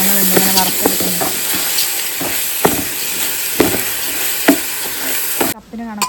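Rice being dry-roasted in a pan for Malabar-style chicken biriyani, a steady frying sizzle broken by repeated scraping and stirring strokes of a spoon against the pan, close and loud.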